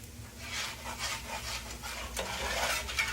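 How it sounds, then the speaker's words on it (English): Repeated scraping strokes of a utensil stirring food around a big skillet, steady and close, with a faint sizzle underneath and no talking. "All right, let's stir it around."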